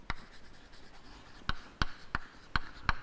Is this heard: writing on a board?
yes